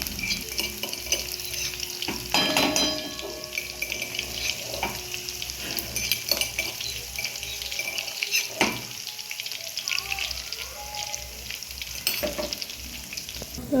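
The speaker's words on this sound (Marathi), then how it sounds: "आता आपलं तेल गरम झालं तर मी त्याच्यात तो आपला जो लसूण होता बारीक केलेला तो टाकला आहे" Finely chopped garlic hitting hot oil for homemade pav bhaji, crackling and sizzling steadily at close range while a spoon stirs and scrapes the pan at intervals; no one speaks.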